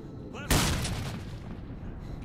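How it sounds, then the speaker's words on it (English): A grenade goes off in S.T.A.L.K.E.R.: Shadow of Chernobyl with one loud, near blast and a rumbling decay, preceded by a short voice sound. "Here's a grenade for you."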